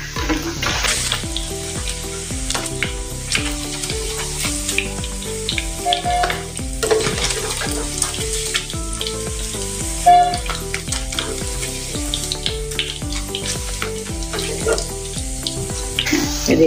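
Paneer fries in oil in a pan, giving a steady crackling sizzle with scraping and light clinks from stirring, over a faint tonal background.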